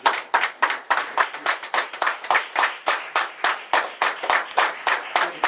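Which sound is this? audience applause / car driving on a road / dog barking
audience applause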